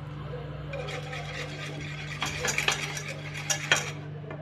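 A spoon stirs a sweet mixture in a pot on the stove while it heats toward a boil, with soft scraping and clinking against the pot over a steady low hum, growing busier toward the end.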